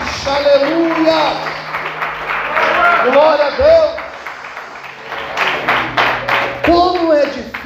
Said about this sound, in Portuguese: Se é para Deus, aplauda mais forte.